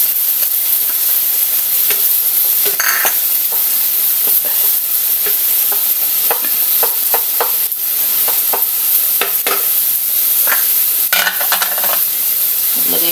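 Garlic and onion sizzle loudly in a hot pan, a constant bright frying hiss broken by repeated scrapes and clicks of a stirring utensil, close up with no talking.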